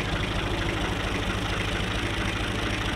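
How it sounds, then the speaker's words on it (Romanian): A tractor engine runs on a damp autumn farm in Maramureș, Romania, with a loud, steady, close-up chugging rumble and no talking. "Tractorul se duce."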